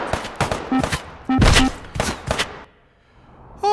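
Rapid bursts of automatic gunfire in the H3VR virtual reality shooter, several loud close volleys with brief gaps across an urban scene, the weapon down to its final magazine, then a short quiet stretch before another sharp shot.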